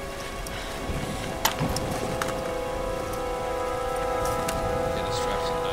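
Rain in the video game Tomb Raider, a steady hiss of falling rain throughout with a few sharp drips or knocks, and faint speech at times.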